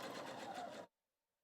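A Husqvarna Viking Opal 650 sewing machine stitches a denim hem in one brief fast whirring run that cuts off abruptly into silence.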